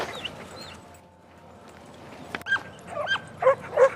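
Young hunting dogs out on a morning quail hunt bark and yip in short bursts, quiet at first then a cluster of close, sharp barks and whimpers near the end, with faint rustling between.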